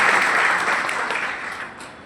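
Audience applause for a student named at a school olympiad teachers' honour ceremony, a broad wash of clapping that starts full and slowly fades over about two seconds, with no talk over it.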